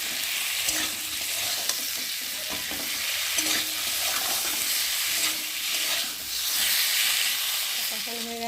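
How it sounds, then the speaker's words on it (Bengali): Potatoes frying in a pan with ginger and cumin paste, a continuous hissing sizzle with scraping stirs and light clinks of a spatula throughout, no talking. "আদা বাটা জিরে বাটা দেবো দিয়ে মশলার সাথে আলুটা ভালো করে কষিয়ে নেবো"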